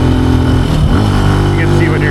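A Benelli TNT135 motorcycle with a low-mounted muffler, heard while riding: a loud, steady engine drone with a firm low hum and a slight shift in pitch partway through.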